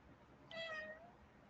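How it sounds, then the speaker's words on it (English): A pet cat indoors gives a single clear meow of about half a second, rising then falling, fairly close against a quiet room. "she just sits there and meows for no reason"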